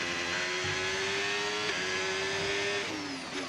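A race car laps the track during qualifying, its engine holding a loud, steady high whine close by, then the pitch drops sharply as it brakes for a corner and climbs again.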